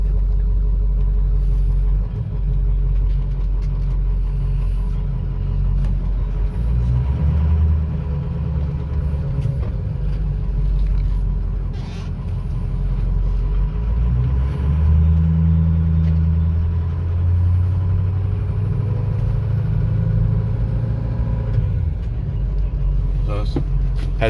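A 2006 Ford F250 Lariat pickup truck drives and accelerates, its deep engine rumble heard from inside the cab, steady and loud, swelling as it gathers speed.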